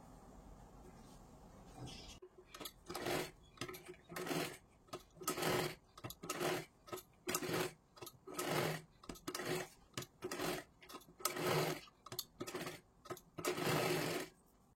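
Domestic sewing machine stitching a blouse with four tucks, running in repeated short bursts of rapid stitching separated by brief pauses, fairly close and steady after a quiet start.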